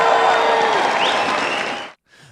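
Loud, raucous applause and cheering from a large political crowd of about 3,800 people, a dense continuous roar of clapping and voices that cuts off abruptly near the end.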